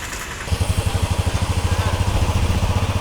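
Motorcycle engine starting up and idling with a steady, throbbing low putter, close and fairly loud after a brief quiet moment, on the route for the Giri Pradakshina around Arunachalam.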